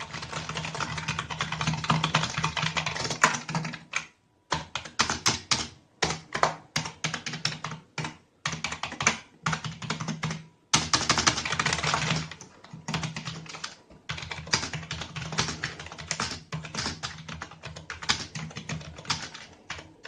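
Fingers type on a TeckNet wired USB RGB gaming keyboard, producing dense bursts of close clicking keystrokes broken by several short pauses, with no voices.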